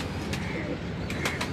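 Pigeons on a city rooftop give soft, faint coos and brief wing flutters, set against a steady, noisy outdoor background.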